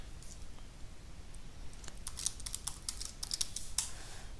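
Keys tapped on a computer keyboard while a passphrase is entered on a macOS machine, the clicks coming in quick irregular bursts that grow busier toward the end, close and fairly quiet, with no talking.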